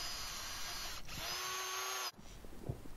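A power drill bores a tap hole into a maple tree in Pennsylvania for syrup making, a steady high-pitched whine lasting about two seconds before cutting off, followed by faint outdoor ambience.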